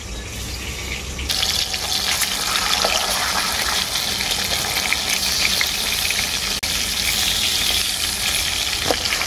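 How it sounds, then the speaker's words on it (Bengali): Fish fillets for a doi katla curry frying in oil on their second side, a steady dense sizzle that stays loud and continuous throughout, with faint scraping from a spatula. "মাছগুলোর দু পিঠটাই আমি হালকা করে ভেজে নিয়েছি"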